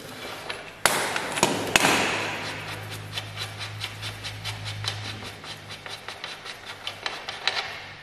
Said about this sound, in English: Now, with the 27mm, we take off the locking the nut.